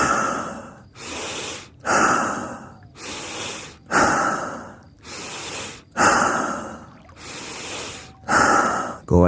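Slow, deep stomach breathing during a relaxing meditation: long audible inhales and exhales alternate in a steady rhythm, close and breathy, with short pauses between breaths.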